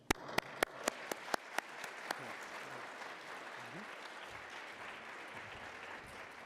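An audience at a conference opening session applauds, starting with a few sharp, evenly spaced claps that give way to a steady, dense wash of clapping lasting several seconds.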